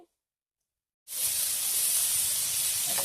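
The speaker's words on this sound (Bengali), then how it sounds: "এবারে পেঁয়াজ কুচি দিয়ে দিলাম ভালো করে নেড়ে নেব পেঁয়াজটা লাল হবে" Chopped onion hits hot oil with a sudden loud, steady hiss and sizzle that holds evenly after a second of silence, with faint stirring scrapes beneath, as a traditional village dish with shushni greens and lentils is cooked.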